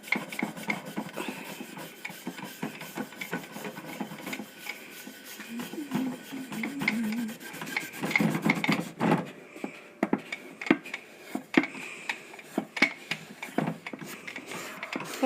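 Crayon wax rubbed by hand into a scratched wood finish on an antique sewing box, a soft continuous rasping friction with uneven strokes, close and fairly quiet throughout.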